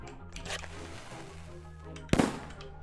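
A single sharp firework explosion stands out near the end of Escape the Backrooms gameplay, following a quieter electronic hum and soft background sounds.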